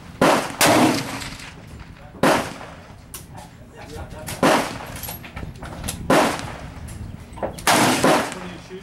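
A Hatsan 135 .25 air rifle fires outdoors in about six sharp, loud cracks at irregular intervals, with faint background noise between the shots.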